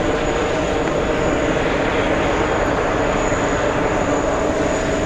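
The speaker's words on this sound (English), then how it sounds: "Go over to the 767 on the move" A Boeing 767 airliner moving at JFK airport, a steady, loud, continuous engine roar with a broad rushing tone that holds evenly throughout, with no voices.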